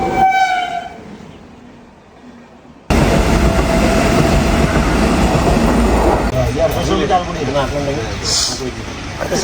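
A train at a railway station: a horn sounds briefly at the start, then a loud, steady rumble of rolling carriages with clattering fills the rest, and people speak nearby.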